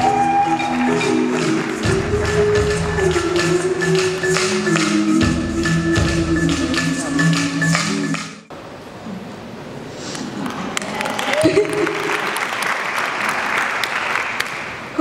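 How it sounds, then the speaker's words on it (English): Applause breaks out at an awards ceremony over loud background music for about eight seconds, then continues more loosely as the music drops away, with scattered claps and crowd noise. "A round of applause,"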